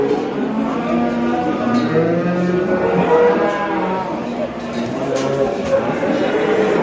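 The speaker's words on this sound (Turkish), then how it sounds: "Bu ineğimiz kol, simenten." Cattle at an outdoor livestock market in Ergani, including Simmental cows, moo repeatedly over a busy background of crowd noise and nearby human voices.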